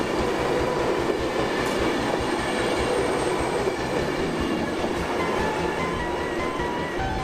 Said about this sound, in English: At this point the Avanti West Coast 390 next to my train left.